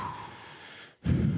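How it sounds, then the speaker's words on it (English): A man who is out of breath takes heavy breaths into a microphone at a high school baseball broadcast: a long exhale, a brief pause, then a louder, rougher breath. "I had to get heavy breaths out"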